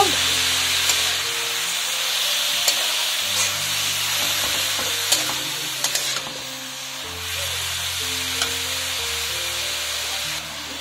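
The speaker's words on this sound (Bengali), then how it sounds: "গাজরটাকে ভালো করে নাড়াচাড়া করে নেব।" Carrots fry and sizzle steadily in oil in a pan while being stirred, a continuous close hiss with occasional scraping clicks throughout, for carrot oil preparation.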